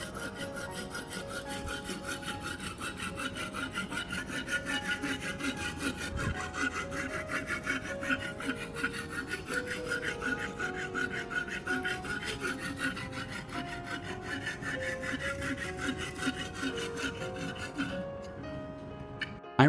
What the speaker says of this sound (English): I grind both sides of the blade to keep the cutting edge centered